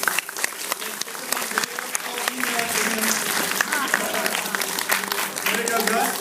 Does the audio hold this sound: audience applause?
yes